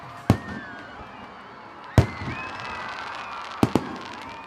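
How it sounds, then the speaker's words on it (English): Festival fireworks burst in three sharp, echoing bangs spaced a couple of seconds apart, the last one a quick double crack, with no voices. "Fireworks."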